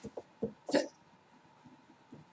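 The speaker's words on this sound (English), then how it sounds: "Got the hiccups?" Several short, abrupt hiccups at indoor close range, a few quick jerky bursts with one louder gasp, then quieter small sounds.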